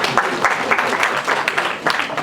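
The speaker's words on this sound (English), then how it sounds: "Clap for that, please." Brief, loud audience applause at a university laboratory commissioning ceremony, dense clapping with a few rhythmic swells throughout.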